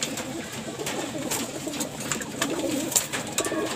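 Pigeons coo at feeding time, with repeated soft throaty calls from several birds close by over a background of rustling and fluttering.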